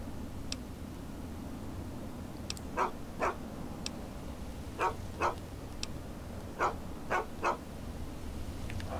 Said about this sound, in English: So I now have a canine companion, which is pretty handy.